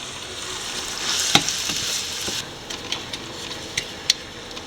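Broken wheat for upma cooking in hot water in a pan, with a steady bubbling sizzle and a few sharp clinks of a utensil against the pan, close by and without speech.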